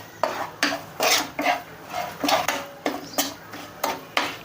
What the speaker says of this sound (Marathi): मसाले थोडेसे कमी गॅसवरच परतून घ्यायचे, जेणेकरून ते जळाले नाही पाहिजे।